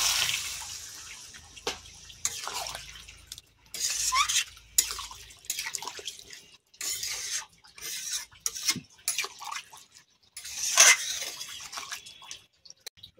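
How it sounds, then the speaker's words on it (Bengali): Water poured into a pan for a Bengali chela fish curry with eggplant and potato arrives as intermittent splashing bursts with light metallic clinks of the pan, close by, with brief pauses between pours. "এবারে জল দেব"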